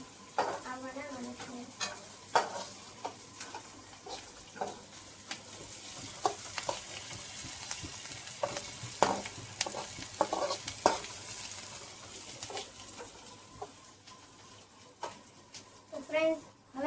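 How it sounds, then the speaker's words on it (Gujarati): Food fries and sizzles in a pan while a utensil stirs and scrapes it in repeated strokes, close and clattering, with a voice talking now and then over the cooking. "હવે આને થોડીક વાર આવી રીતના હલાવા રાખવાની"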